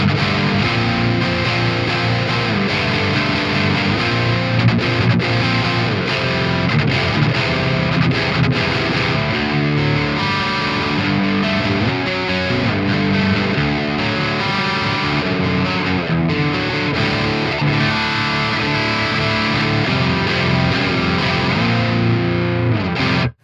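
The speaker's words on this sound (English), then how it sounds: "So turning that off, let's go to some distorted tones instead" Heavily distorted electric guitar through a Mesa Dual Rectifier tube amp on its red channel plays continuously and loud, thick saturated chords and riffs ringing out alone without any voices.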